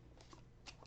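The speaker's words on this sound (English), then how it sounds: "You're going to shuffle these up" A deck of red-backed terror cards for the Hostage Negotiator board game being shuffled, a brief soft riffle of cards, faint and close.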